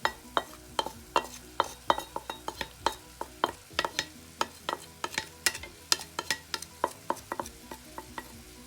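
Basil and garlic stirred in a frying pan, a spoon scraping and clinking in a quick irregular rhythm over a soft, steady sizzle, close and alone without talk.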